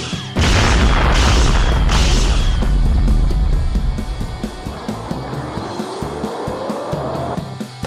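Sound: Kamehameha energy blast explosion

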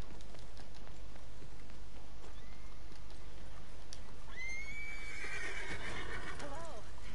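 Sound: horse whinnying in Red Dead Redemption 2 video game

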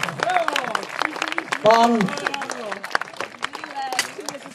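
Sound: audience applause for longsword tournament winners

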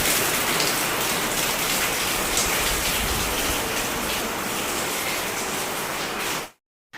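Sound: rain

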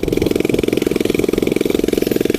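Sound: motor engine started and running

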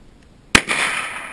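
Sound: 9mm JRC carbine gunshots at target practice

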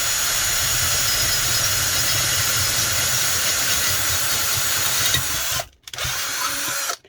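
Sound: power drill boring a 6mm hole

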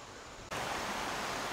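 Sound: creek water flowing near a waterfall

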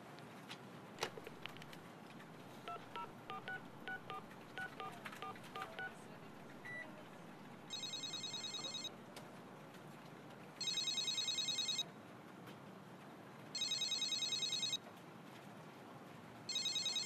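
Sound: telephone dialing and ringing

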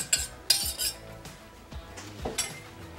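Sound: scraping sauce into crockpot onto stew meat

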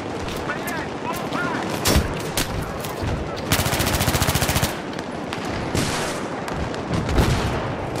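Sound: M60 machine gun firing in a video game

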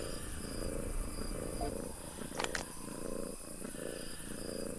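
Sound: cat purring in video game Weird Park

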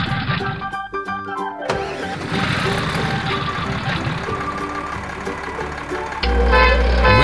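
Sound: toy quad bike engine in kids' app

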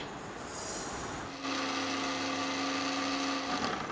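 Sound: mixer grinder grinding roasted ingredients into fine powder

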